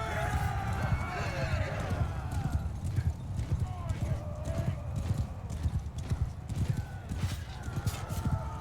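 Cavalry horses gallop in the Mount & Blade II: Bannerlord video game, with a dense, steady drumming of many hooves and occasional neighs as someone talks over the charge.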